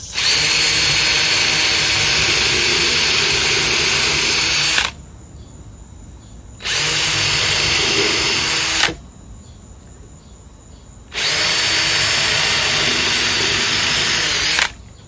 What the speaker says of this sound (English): just going to be drilling 3 holes in the wood